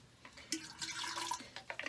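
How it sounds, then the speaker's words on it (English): Bleach is poured into a dirty container, heard as a faint, close liquid pour with splashy, trickling bursts. "I'm going to pour a little bleach inside this."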